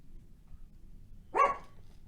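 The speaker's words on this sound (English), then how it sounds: "It wouldn't be a cook with me video if the dogs weren't barking" One short dog bark rings out over a low background rumble, brief and moderately loud.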